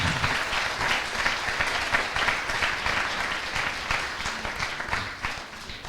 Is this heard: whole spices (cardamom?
no